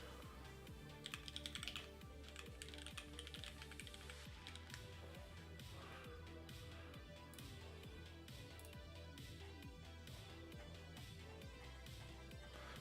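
Rapid typing on a loud, high-pitched custom mechanical keyboard: dense, steady clacking keystrokes close up, continuing throughout over quiet background music.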